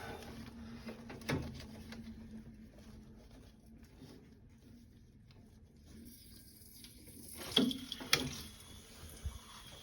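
Water draining from the drain point of a Baxi Duotec combi boiler through a tube into a sink: a faint, steady trickle with a few soft clinks and knocks near the end.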